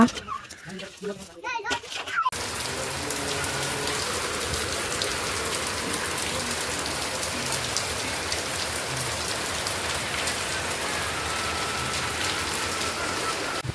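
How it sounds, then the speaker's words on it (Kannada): Heavy rain pours down in a steady, dense hiss on a house, leaking through the roof, following a brief moment of muffled talk at the start. "ನೋಡಿ ಯಾವ ಥರ ಮಳೆ ಅಂದರೆ ಚೆನ್ನಾಗಿರೋ ಮನೆ ಕೂಡ ಸೋರೋ ಥರ ಆಗ್ಬಿಟ್ಟೈತೆ"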